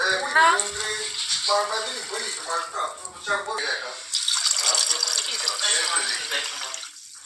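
Water is poured into a cooking pot holding rinsed rice for a Hong Kong-style Chinese dish, a steady splashing stream that builds in the later seconds while a person talks over it.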